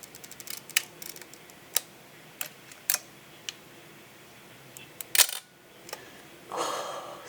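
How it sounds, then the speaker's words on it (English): Close mechanical clicks from a Nikon Nikkormat FTN film camera, several crisp shutter snaps at irregular intervals, followed by a short grinding, winding rasp of the rewind lever near the end. "that shutter doesn't sound amazing"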